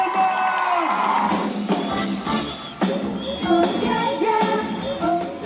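A large audience cheers, whoops and shouts for a band, a loud, dense crowd roar that swells and surges throughout with scattered individual yells rising above it.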